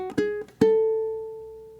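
On ukulele, a short jazz blues bar: a few quick plucked notes, then a final note left ringing and slowly fading, clean and close with no talk.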